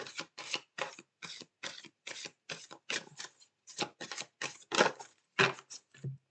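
Tarot cards being shuffled in quick bursts, about a dozen short riffling rustles in a steady rhythm, close and fairly quiet with no talking.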